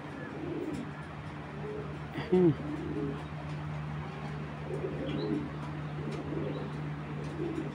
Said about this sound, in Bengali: অরিজিনাল গ্রিন আইসের কবুতর